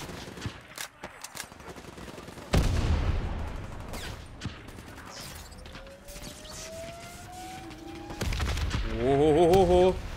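Scattered gunshots and heavy bursts of fire in Call of Duty: Black Ops 3, mixed with a rising siren-like tone and loud impacts, punctuated by sharp cracks, with a voice talking over parts of it.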